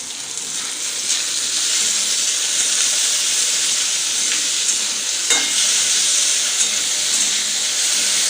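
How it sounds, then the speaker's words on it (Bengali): Chicken pieces coated with lemon, turmeric and salt fry in a hot pan, a loud continuous sizzle and hiss close by, with a few faint stirring scrapes and no talking. "মাখিয়ে দিয়ে আমি ভেজে নেব"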